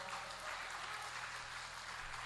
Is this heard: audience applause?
yes